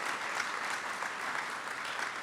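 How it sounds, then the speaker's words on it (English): Audience at a Sonoma County wildfire and forest conservation plenary clapping for the presenters, a dense steady round of applause at moderate level with no talking. "First to our presenters, a round of applause, please."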